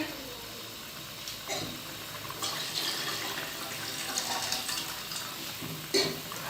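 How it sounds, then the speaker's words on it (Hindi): Water bubbling in a pot as it comes to a boil for matar pulao, a soft continuous hiss and burble with a few louder splashes, no talking. "ये देखिए हमारे पानी में वो उबाल आना स्टार्ट हो गया है और ये अच्छी तरीके से उबल रहा है"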